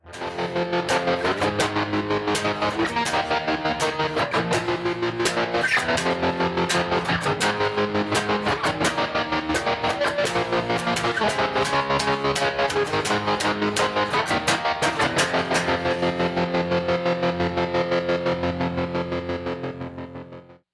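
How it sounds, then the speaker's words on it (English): An electric guitar runs through the OPTO tremolo setting of a Line 6 MM4 modulation pedal. Dense, distorted chords pulse continuously for about twenty seconds with no voice, fading at the end. "What you just heard was the OPTO tremolo setting on the MM4."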